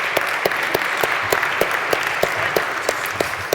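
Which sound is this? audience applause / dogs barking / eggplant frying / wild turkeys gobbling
audience applause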